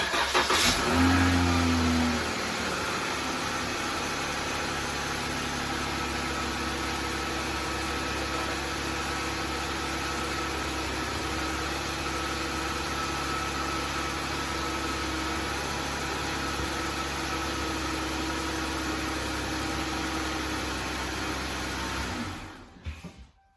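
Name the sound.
car engine starting and idling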